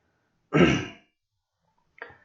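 Two short, close dry coughs without phlegm: a strong rasping one, a pause, then a quicker, lighter one, with silence around them.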